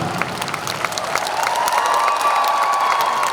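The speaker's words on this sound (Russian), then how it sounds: "аплодируют" Concert audience applauding and cheering in a large hall, a dense continuous wash of clapping with crowd noise, steady and fairly loud throughout.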